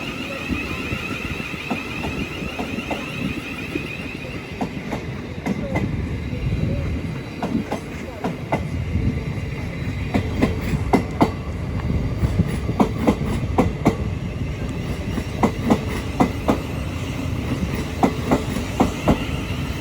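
Class 377 electric trains pull out of East Croydon station, a steady low rumble with rhythmic wheel clicks over rail joints and a high tone from the platform, with a voice talking over the passing train.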